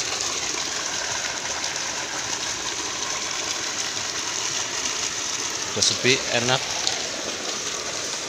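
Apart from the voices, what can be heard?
rain falling outdoors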